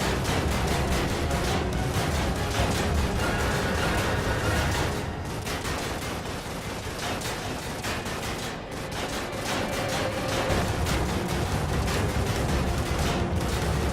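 Dense, continuous gunfire in the survival horror video game The Evil Within, loud volleys of shots filling the whole stretch with brief dips, no talk over it.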